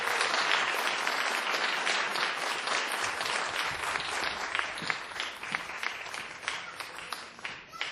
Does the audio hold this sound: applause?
yes